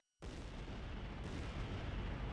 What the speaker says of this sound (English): explosions go off all around